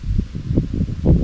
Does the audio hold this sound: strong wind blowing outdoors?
yes